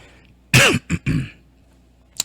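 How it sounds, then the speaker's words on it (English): A man's few sharp, throaty coughs close to the mic after smoking a blunt, a hard burst followed by two shorter ones, then a brief faint catch at the end. "Little cough from the blunt that you just seen me put out."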